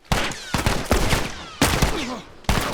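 Gunfire crackles in the video game The Last of Us, with several sharp bursts of rapid shots in quick clusters separated by brief pauses, loud and close.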